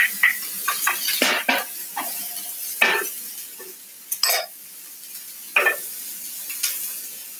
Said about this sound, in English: I think maybe I'll put the peppers in as well